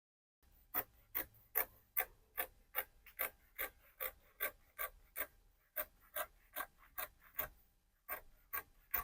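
Fabric being cut out for flare pants, a steady series of about twenty crisp, evenly spaced scissor snips, close and quiet, with no talk.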